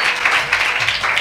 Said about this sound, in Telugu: చప్పట్లు కొడుతూ దేవుని కనపరచండి